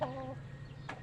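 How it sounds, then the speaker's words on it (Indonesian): Elba laying hens and a pelung rooster give short, close clucks and calls, a burst at the start and a few more near the end over a steady farmyard background. "Ini ayam pelung nih, kayaknya mau bertelur."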